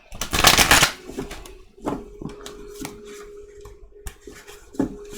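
A deck of tarot cards gets one quick, crisp riffle shuffle close up. Scattered soft taps and card handling follow over a faint steady hum.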